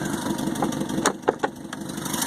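A Land Rover Series III engine idles steadily with an even, mid-pitched rumble, broken by a couple of brief clicks or knocks near the middle.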